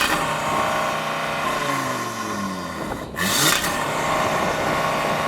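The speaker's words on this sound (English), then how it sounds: "Go on, rev up the Audi." A stationary Audi RS3 with a five-cylinder engine and stock exhaust drones loudly at idle, rises through one rev sweep and falls back, then gives a brief rushing burst near the end. No voices are heard.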